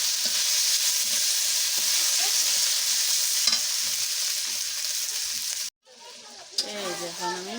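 Beef tripe frying with onions and spices in a pan, a loud, continuous close sizzle with scraping stirs that cuts off abruptly near the end, followed by a brief rattling clatter.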